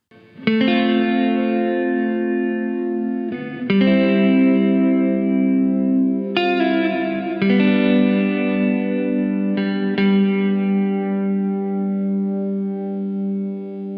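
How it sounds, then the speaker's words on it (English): Electric guitar chords through a Hardwire RV-7 pedal on its plate reverb setting ring out one after another, each sustained with a lush, shimmering reverb tail that lingers between strums. "So let's hear the plate reverb setting of the RV-7."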